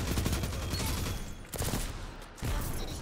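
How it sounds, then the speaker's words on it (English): Submachine gun firing in the online shooter Destiny 2, rapid sustained bursts of automatic fire with a short pause before a second burst, loud and close. "Pull out the submachine gun for this part right here."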